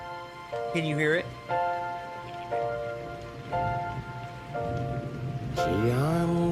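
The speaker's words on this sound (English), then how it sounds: "I'm awfully glad it's raining" Steady rain falls in a dense, even hiss, with voices and tonal, musical sounds rising over it throughout.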